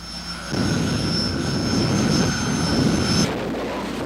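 A jet-powered drag racer roars down the track, a loud broad rushing blast that surges in and holds for a few seconds before thinning out at the end.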